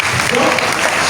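Church congregation applauding at a charismatic renewal service, a steady dense clatter of many hands clapping close by with no pauses.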